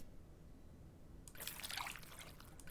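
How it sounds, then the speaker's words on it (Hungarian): Water pours in the cooking game Venba, a faint trickling splash that starts partway through and continues softly over low background hiss, with no speech. "beleöntöttem vizet"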